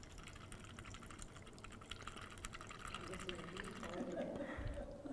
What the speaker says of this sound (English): You put the water here, and then you just pour like that.